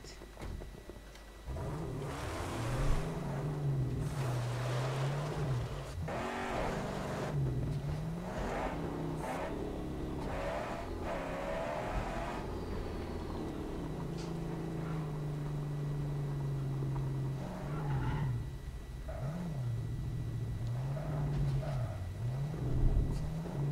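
A car engine in the Mad Max video game hums steadily and revs up and down as the vehicle drives toward tunnels, with a low droning note and occasional surges, fairly quiet and continuous.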